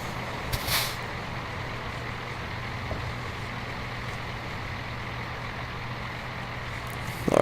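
A truck in American Truck Simulator sits over a steady low engine drone, with one sharp air-brake hiss bursting out near the start, then a continuous rumble and a faint click later on.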